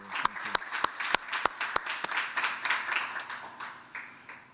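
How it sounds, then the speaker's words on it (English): An audience at a college interview event applauds guest Brian Lamb, beginning with a few sharp, separate claps that thicken into a soft, quiet patter of applause. "please join me in just giving Brian some applause"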